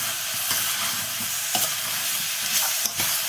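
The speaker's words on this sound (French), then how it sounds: "Il faut porter tout ça à ébullition." Rhubarb jam heating toward a boil in a pot gives a steady, close bubbling sizzle and hiss, with a few soft stirring clicks and no talking.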